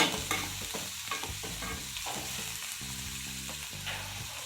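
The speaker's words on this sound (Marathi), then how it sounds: "छान असं परतून घ्यायचं आहे" Wild kadwanchi vegetable stir-fried in a pan, a spatula scraping and tossing in quick repeated strokes with a soft sizzle underneath, steady and close, over background music without any talk.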